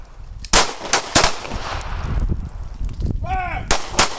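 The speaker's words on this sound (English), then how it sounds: "We're gonna fire 1 round now." Pistol shots fired during combat accuracy drills at an outdoor firing range, several loud sharp cracks spaced irregularly with echoing tails, close and dominant, a brief shout-like voice fragment between shots.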